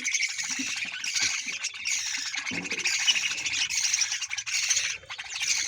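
Budgerigar chicks squawk and chatter nonstop at close range, a dense, harsh, raspy chorus with brief rattling calls mixed in.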